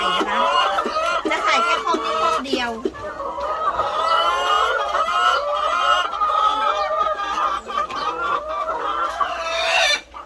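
Chickens newly brought into a backyard egg-laying coop cluck and call continuously at close range, with a busy layered chatter filling the whole stretch and occasional louder squawks.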